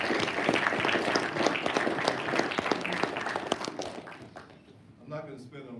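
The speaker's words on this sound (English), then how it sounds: "give another round of applause to the folks who've been here" An orientation audience at the MedEx Academy gives a round of applause, dense and lively at first, then thinning and fading into scattered claps as a voice begins speaking near the end.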